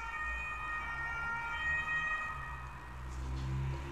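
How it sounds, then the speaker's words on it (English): Several ambulance sirens passing outside, wailing tones heard faintly at a distance with a low traffic rumble beneath. "That's a lot of ambulances!"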